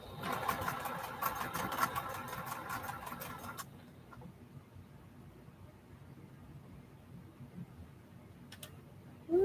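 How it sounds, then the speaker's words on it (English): A sewing machine stitching fabric runs in a rapid ticking burst for about three and a half seconds, then stops, leaving quiet room noise with a few faint clicks. "I'm gonna go on and sew this"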